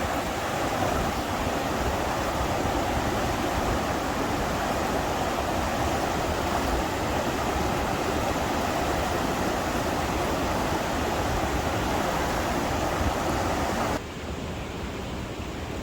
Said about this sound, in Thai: น้ำไหลผ่านอาคารเนาะค่ะเนาะ